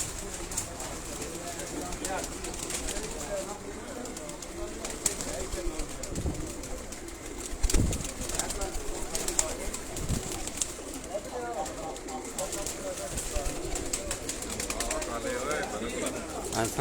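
Batera and Kasuri pigeons coo steadily in a loft, soft repeated calls layered under a voice talking throughout.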